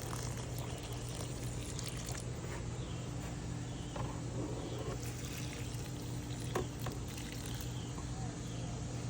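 Water poured from a container onto pepper plants, carrying a mixed 0-15-15 phosphorus and potassium fertilizer, runs in a steady, close, moderately quiet stream over a constant low background hum.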